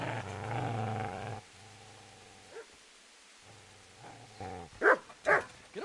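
A dog in Kingdom Come growls in a low, sustained rumble, pauses, growls again, then ends with two sharp, loud barks close by.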